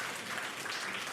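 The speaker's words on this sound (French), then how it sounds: "Je vois des gens qui applaudissent." Audience applause at a French-language tech talk, a steady wash of many hands clapping continuously at moderate level throughout, with no speech over it.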